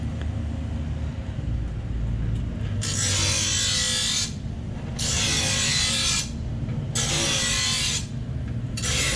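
A file rasps metal off a lawn mower blade in four steady strokes, each a bright scraping rush, over a constant low engine-like rumble in the background.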